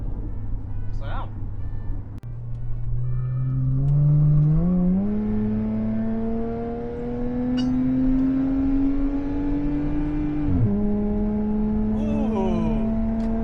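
A Subaru accelerating at full throttle onto a freeway, its engine note climbing steadily in pitch through the gears with a brief dip at a shift, heard from inside the cabin over road noise.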